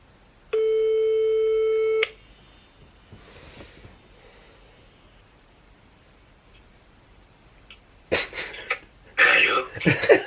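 A telephone call being placed, with a steady electronic ringback tone for about a second and a half, then quiet before bursts of voice and rustling noise at the end.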